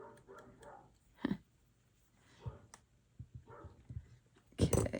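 A neighbor's dog gives scattered, faint barks and yips at a distance, with a louder burst near the end, amid quiet indoor room noise.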